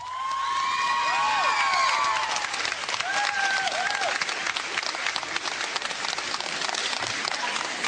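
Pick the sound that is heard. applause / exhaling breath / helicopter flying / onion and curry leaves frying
applause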